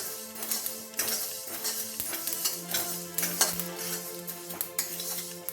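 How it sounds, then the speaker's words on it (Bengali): Mustard seeds stirred in a hot wok just after the gas flame is turned off, a metal spatula scraping and clinking against the pan in a steady rhythm over a faint sizzle, close and fairly loud. "দিয়ে আমি আবার কিছুক্ষণ 3-4 সেকেন্ড নেড়ে নিচ্ছি।"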